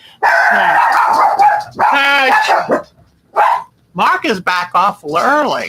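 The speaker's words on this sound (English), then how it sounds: "But sorry about the dogs." Several excited dogs bark and yip indoors at home in loud, rapid bursts with short pauses, and someone talks between and over the barking.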